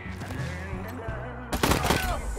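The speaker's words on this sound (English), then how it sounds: "Let's just shoot him." Gunshots in the Wasteland 3 video game, a sudden loud burst of fire arriving after a stretch of quieter game background, with several sharp cracks close together.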